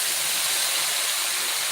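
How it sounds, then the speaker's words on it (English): Water poured into a pan of green beans, a steady broad hiss and sizzle of steam that stays even and fairly close throughout, with no voices. "I'm going to add just a bit of water"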